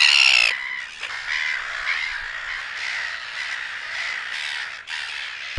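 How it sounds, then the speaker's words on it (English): Silver gulls call at an island seabird rookery, with loud, harsh, continuous squawks and cries overlapping from several birds close by. "The highly vocal and angry silver gull is one conspicuous resident."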